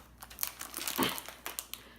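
A plastic bag of Skittles crinkles and crackles as it is tugged and pulled open, a close, busy run of sharp rustles peaking in a louder burst midway, with no talking.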